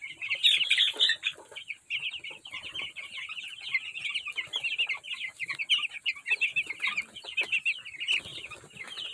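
Chickens in a large cage holding about 45 birds: continuous overlapping clucks and squawks, close and lively, with a brief flurry of wing flapping early on.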